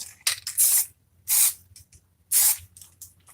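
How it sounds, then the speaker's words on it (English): Shower mixing valve trim being spray painted, with about four short, close bursts from an aerosol can separated by brief pauses, and no talking. "after I sprayed it"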